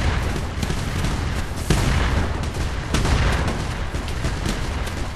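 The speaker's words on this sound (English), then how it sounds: "I can just shoot things and zoom in." Continuous video game gunfire, a dense barrage of shots and booms layered over one another at steady loudness, with no talk.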